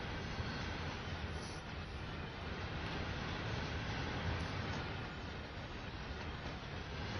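A train rumbles past in Train Sim World 5, a steady, loud, broadband roar of wheels and carriages that holds for several seconds without a break.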